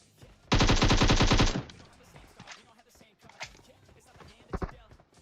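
Automatic gunfire in PUBG Mobile: a rapid, loud burst of about a second of closely spaced shots, followed by scattered single shots and impacts, with a player's voice talking alongside.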